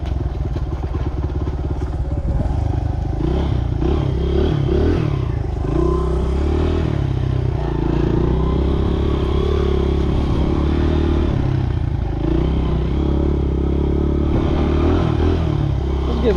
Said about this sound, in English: Snowmobile.